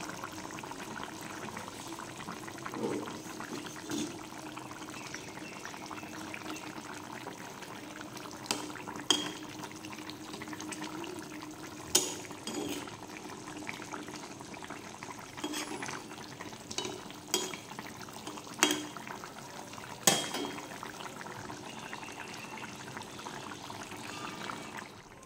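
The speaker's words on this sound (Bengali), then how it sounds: "এবার ভালো করে ফুটিয়ে নেব।" Bengali thin hilsa fish curry with potato and eggplant boiling steadily in a pot, a continuous bubbling simmer with occasional sharper pops and spoon clinks throughout, no voices.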